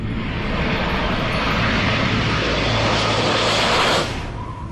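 A stealth military jet flies by with a loud, steady broadband roar that swells and holds, then fades slightly toward the end.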